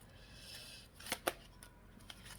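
Heart-shaped tarot cards being shuffled by hand, soft papery riffles and a couple of sharper flicks and slaps, close and quiet against low room hiss.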